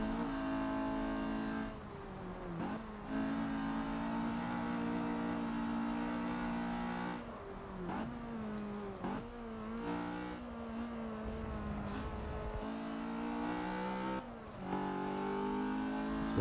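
A BMW E30 M3 engine on the Nürburgring track hums steadily through a corner, its pitch rising and dipping with throttle changes and brief lifts, heard close and continuously with no talking.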